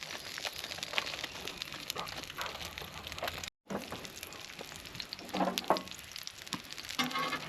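Eggs frying in grease at a campsite: a continuous crackling sizzle with sharp pops and spits, close up, briefly cutting out for a moment before resuming with scattered louder bursts.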